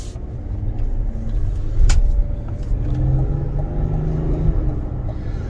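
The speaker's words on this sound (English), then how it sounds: "If you just kind of like bury your foot, you don't get a launch or any sort of thrust off the line with this 10-speed auto." A 2021 GMC Yukon Denali diesel with a 10-speed automatic pulls away from a stop under hard throttle, its engine rumbling loud and steady inside the cabin with a brief surge partway through.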